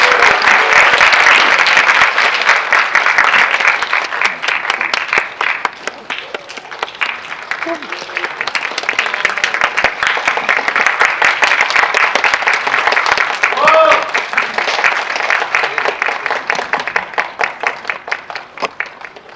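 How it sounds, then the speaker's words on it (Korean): A cinema audience at a screening talk for the film "하얀 차를 탄 여자" applauds loudly as the director and cast are welcomed, with sustained clapping for nearly twenty seconds and voices audible beneath it. "힘찬 박수로 모시겠습니다"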